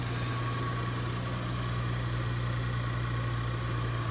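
A 3.5 litre twin turbo V6 rated at 375 horsepower idles steadily with the hood open, a constant low mechanical hum with a fixed tone, no revving and no voices.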